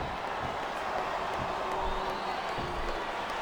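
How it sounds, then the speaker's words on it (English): Arena crowd in the WWE SmackDown vs. Raw 2007 wrestling video game, a dense, continuous roar of cheering and shouting at a steady level, with occasional claps and whoops standing out. "capacity crowd is making their opinions known tonight"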